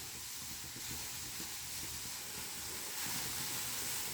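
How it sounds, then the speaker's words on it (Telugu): Small bitter gourds dry-roasting in a pan with no oil give a steady, soft hiss and sizzle that runs evenly throughout, close and fairly quiet, with no voices. "జస్ట్ వేపుకోవాలి, ఏం ఆయిల్ వేయకుండా ఫస్ట్ జస్ట్ వేయించుకోవాలి"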